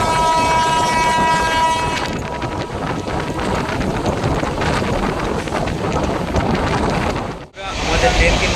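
The Sahid Express rolls non-stop out of Howrah with a loud, continuous rumble and clatter of wheels on rail, buffeted by wind noise. A brief dropout comes near the end before the rushing noise returns.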